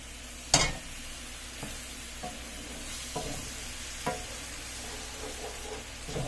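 Beef broth poured into a hot pan for Salisbury steak, sizzling steadily while a utensil scrapes and stirs with several sharp clacks and taps against the pan, close up and without talk.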